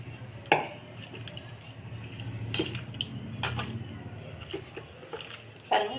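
Prawns are mixed by hand with salt and chicken masala in a bowl, giving soft wet squelching and occasional sharp clinks of the bowl, with no one talking.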